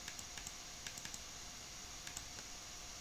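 Light, faint computer mouse clicks come in small scattered clusters against a quiet background hiss, with no talking.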